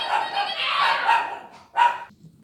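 A dog barks loudly and close by in a house, giving a long run of rapid, overlapping barks followed by one more sharp burst near the end, with no talk over it.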